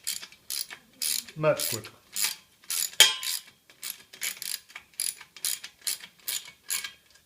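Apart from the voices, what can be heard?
socket wrench ratcheting while assembling a SKIL 3310 table saw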